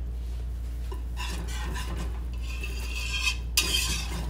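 Cheese sauce being stirred in a pot for Jamaican rasta pasta, a spoon scraping and clinking against the metal with soft repeated strokes. Faint sizzling sits underneath, and nobody talks.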